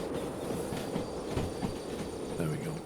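A short train rolls on rails in the Derail Valley video game, a steady rumbling roll with rhythmic clicks and faint wheel squeal near the end.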